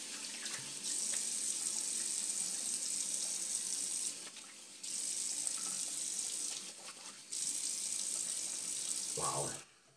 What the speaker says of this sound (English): Hold on, let me rinse off.